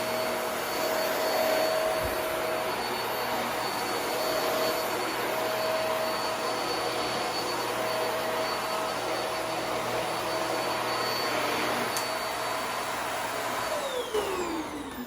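A corded Hoover MAXLife Pro Pet bagless upright vacuum cleaner runs with a steady, loud motor whine and airflow hiss, heard up close with no voices, its pitch dropping as it spins down near the end.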